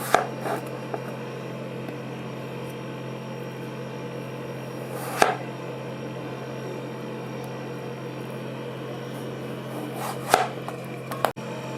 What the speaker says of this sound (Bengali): আলুটাকে আমি সরু সরু করে কাটবো যেমনি আলু ভাজা করে ওর থেকে আরেকটু মোটা